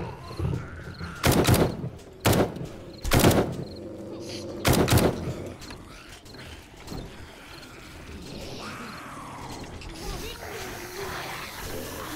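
Four sharp gunshots crack out close and loud in the survival video game 7 Days To Die. Quieter mechanical clicks and rustling follow.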